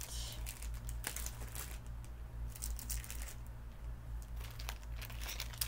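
Plastic packaging crinkles and rustles steadily close by, in quick irregular handling bursts over a constant low electrical hum, with no voices.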